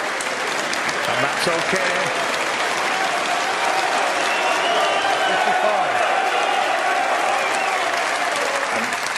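Snooker crowd at the 2023 UK Championship final applauding steadily throughout, a loud continuous wash of clapping with a commentator talking over it.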